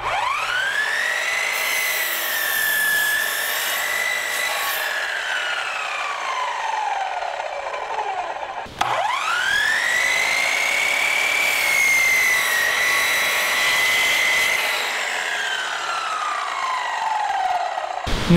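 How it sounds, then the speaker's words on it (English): Miter saw cutting wooden boards for a king size bed frame, two long loud whining cuts, each spinning up, holding a steady high tone through the wood, then winding down, close by with no talk. "I'm using a miter saw here."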